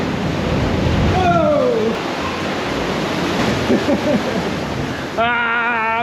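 Loud, continuous surf surges and roars inside a coastal sea cave, filling the space with a dense wash of water noise. A person shouts over it, and a high whistle-like tone comes in near the end.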